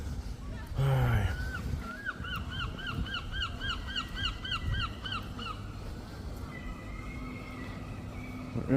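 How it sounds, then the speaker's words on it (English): Several seagulls call in a quick run of repeated high cries at a British seaside town, fairly near and loud, with other gull calls trailing later over steady outdoor background noise. "Fucking seagulls."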